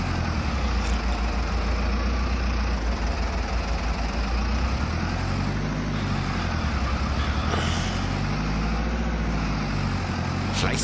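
A Fendt Farmer 300 series tractor in Farming Simulator 22 runs at full throttle, a steady, loud, low engine drone with no pause.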